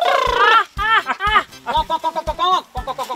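A human voice imitates a rooster crowing in a comedy sketch, making a quick run of close, loud, rising and falling calls in short bursts.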